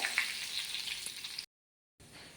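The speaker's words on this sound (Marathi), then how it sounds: "आता ही फोडणी आपण चांगली शिजवून घेऊया" A tempering with curry leaves frying in a pan for a mango dal, a steady close hiss of sizzling oil that cuts out briefly and then resumes more quietly.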